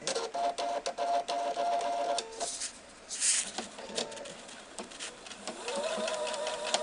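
A sewing machine fitted with a specialized foot stitches piping onto a pillow cover, running in quick mechanical bursts with short pauses between runs.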